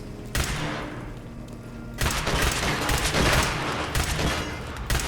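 Sustained gunfire in a Fallout 76 fight against a Mr. Gutsy robot, with dense bursts of shots and booms that stay loud from start to finish, with no talk.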